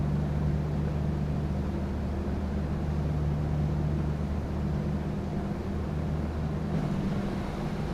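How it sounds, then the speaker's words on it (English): Steady engine drone of a PMDG 737-800 heard from behind the wing in MSFS2024, a constant low rumble with a faint hum, unchanging and continuous throughout. "Love the engine sound from behind the wing."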